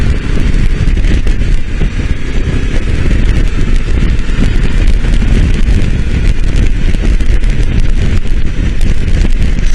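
Steady, loud wind roar buffets the microphone while riding a Honda CB500X motorcycle with a windshield on a chilly day, continuous and broadband with no pauses.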